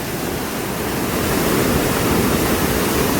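A flooded river running over its banks after rain roars as a dense, continuous rush of water, loud and steady throughout with no voices.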